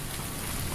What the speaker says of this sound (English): At least the rain is not loud.